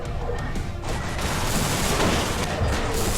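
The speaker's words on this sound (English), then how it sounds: "Explosion." A big explosion in the space-combat video game Everspace erupts as a sustained loud roaring blast with crashing debris, building rather than fading over several seconds, with no speech.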